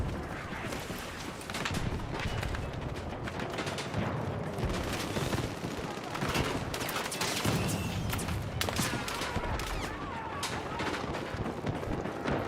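Submachine gun fire in Battlefield 6 comes as dense, rapid bursts of automatic shots, loud and continuous across the clip, with more distant gunfire mixed in.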